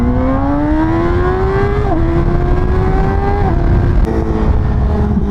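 Yamaha R6 motorcycle fitted with a new aftermarket exhaust, screaming loudly at high revs near 16,000 RPM, a piercing close engine wail that holds and steps through slight pitch shifts without any talking.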